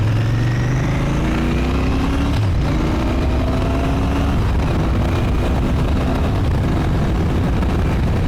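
A Royal Enfield Bear motorcycle accelerates on the road, its engine note climbing through the gears with a brief dip at a shift, loud and close over steady wind and road noise.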